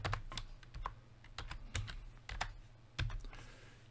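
Typing on a computer keyboard on a Windows PC, irregular clusters of light key clicks close by, quiet and uneven in rhythm, with no speech.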